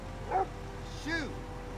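A dog gives a short yip-bark followed by a rising, drawn-out whimper, two brief close cries over a quiet background with low rumble.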